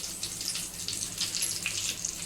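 Mandeli fish lollipops frying in hot oil, a steady close hiss and crackle of sizzling that holds evenly throughout with small pops on top, no talk.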